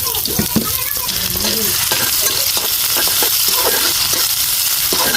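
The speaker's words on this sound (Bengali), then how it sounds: "পেঁয়াজ আর রসুন দিয়ে বাগার দিচ্ছি ডালটা" Onion and garlic fry hard in hot oil as a tempering for drumstick lentil dal, making a loud, dense sizzle. Stirring and clinks of the pot run through it, with no talk.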